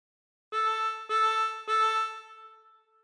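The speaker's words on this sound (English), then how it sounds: "breathe in through 3 and bend the note so that it sounds like this" A harmonica plays three bent draw notes on hole 3, each a steady reedy tone breathed in and held briefly before fading at the end. The notes are clear, close and alone.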